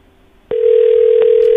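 A telephone sounds with a steady electronic tone that starts abruptly and holds loud and constant, with a brief click partway through and no voices.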